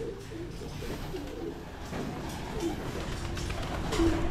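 Pigeons coo steadily at feeding time in a busy loft, a dense murmur of overlapping calls that grows slightly louder toward the end, with soft rustling underneath.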